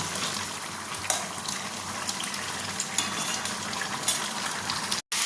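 A curry sizzles and dries in a hot pan, giving a steady, close frying crackle with small pops throughout and a brief cut near the end.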